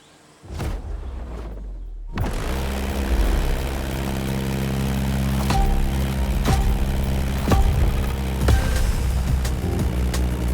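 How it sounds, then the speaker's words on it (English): Vintage 1930s Beechcraft Model 17 Staggerwing biplane in The Crew Motorfest racing game, its radial propeller engine droning steadily and loud after a short quiet start, with a few sharp clicks and tones over the hum. "Your first plane is ready for takeoff. The Beechcraft Model 17 Staggerwing, a historical biplane from the 1930s"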